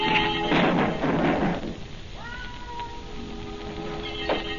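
A cat meowing and yowling close by in a loud, drawn-out caterwaul, followed by shorter rising meows and a soft thump.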